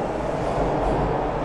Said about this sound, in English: This is not our train, we just...